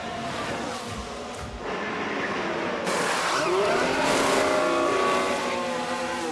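Formula 1 cars in F1 Manager 24 at the Circuit of the Americas in the United States whine past in a rising and falling engine drone, with one car building louder partway through.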